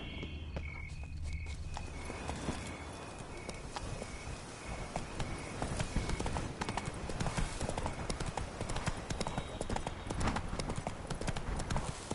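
Horse hooves clop in a quick, steady gait in The Witcher 3: Blood and Wine, growing denser and louder partway through over faint insect chirping in the background.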